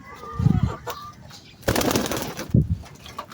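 Pigeons flutter down and land in short bursts of wingbeats, with a dense flapping flurry in the middle, close by and fairly loud, with faint voices in the background.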